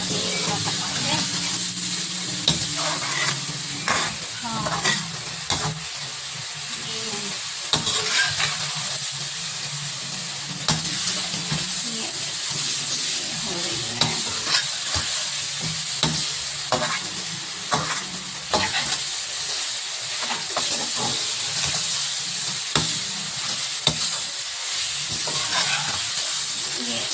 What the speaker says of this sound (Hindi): और ये भी हमारा मुन्ना प्याज, इसको इधर ऑयल में डालते हैं ताकि ये थोड़ा सा पक जाए